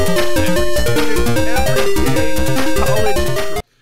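Background music track imported into Audacity plays loud and steady with a driving rhythmic beat and layered melody, continuing throughout before cutting off abruptly near the end.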